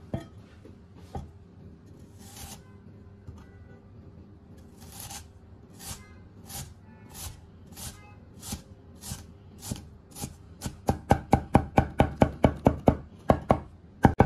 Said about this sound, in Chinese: 香菇呢切成筷子头丁啊，也就是说半公分大小的丁